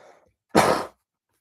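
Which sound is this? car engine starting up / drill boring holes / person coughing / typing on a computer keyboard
person coughing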